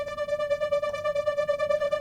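Modular synth part run through effects plugins and spacey reverb, a sustained bright buzzing tone with rapid pulsing tremolo and shimmering wash, moderately loud and alone for the whole two seconds.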